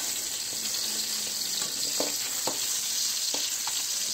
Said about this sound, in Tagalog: Igigisa ko lang sila.